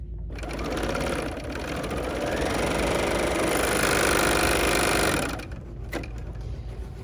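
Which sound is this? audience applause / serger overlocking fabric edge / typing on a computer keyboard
serger overlocking fabric edge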